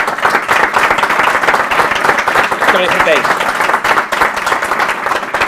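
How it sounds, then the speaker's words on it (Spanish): Steady applause from an audience at a WordCamp WooCommerce workshop talk, dense continuous clapping filling the room, loud and close, with voices faintly mixed underneath. "pido un fuerte aplauso para él"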